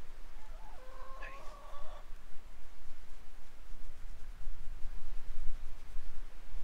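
Chickens cluck in a backyard pen on a wet morning after a night of rain: a single short, tonal call early on, then only steady, noisy outdoor background.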